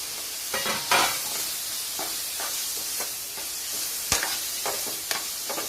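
Mutton keema frying in a pan after tomato pieces go in, a steady bright sizzle with several short stirring scrapes and clinks scattered through, close and moderately loud, no talking.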